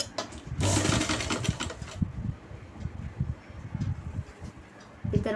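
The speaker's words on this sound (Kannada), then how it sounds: "ಈ ಬಟ್ಟೆ ಕೆಳಗಿದ್ದದನ್ನು 1/4 ಇಂಚಲ್ಲಿ ಹೀಗೆ ಸ್ಟಿಚಿಂಗ್ ಮಾಡಿ" A sewing machine runs a quarter-inch stitch along the folded bottom hem of a pant, with canvas under the cloth. The motor whirs steadily with a fast rattling rhythm, close and fairly loud.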